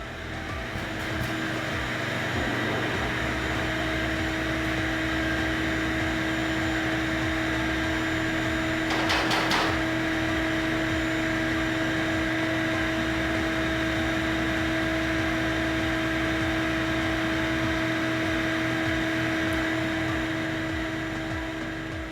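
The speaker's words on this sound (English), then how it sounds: "I'm gonna use my vacuum cleaner a little bit." A vacuum cleaner drones steadily for a long stretch while sucking debris out of a clogged exhaust pipe, a constant whining hum with a brief rattling burst partway through.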